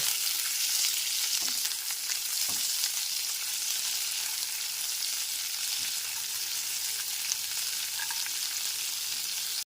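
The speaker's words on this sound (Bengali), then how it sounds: "গ্যাসে ফ্লেমটা লোতে রেখে কাজু আর কিশমিশটা ভেজে নিচ্ছি" Cashews and raisins fry on a low gas flame for a semolina mohanbhog, giving a steady, close, soft sizzle that carries on evenly with no talking.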